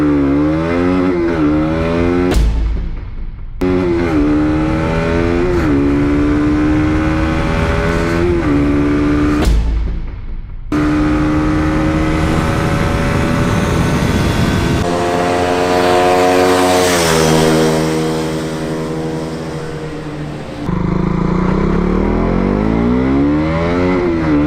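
A 2019 KTM Duke 200 single-cylinder engine revs hard on a road test, climbing through the gears with sharp pauses at each shift, loud and close, then settling into a steady high-pitched drone.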